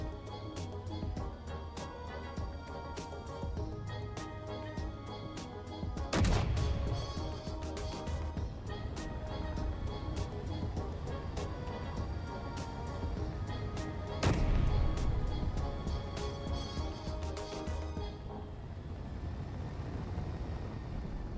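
Rapid bursts of video game gunfire run throughout, dense and continuous, with two sharper heavy shots standing out near the start and middle, ending in a quieter tail.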